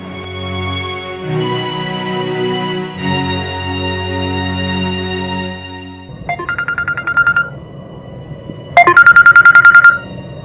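Touch-tone telephone keypad dialed in a Gujarati family drama scene: two short bursts of rapid, evenly spaced beeps, clear and close, laid over steady background music.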